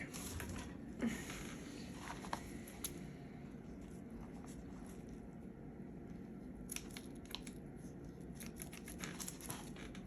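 Scissors snip through casting material while an ulnar gutter cast is applied to a wrist, giving scattered faint crisp cuts over low room noise with no clear talk.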